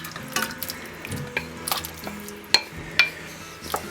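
Rump steak pieces tipped back into a pot of stock made with water and OXO cubes, with soft stirring, faint sizzling and a few sharp metallic clinks of utensil against the pot, close by with no talk.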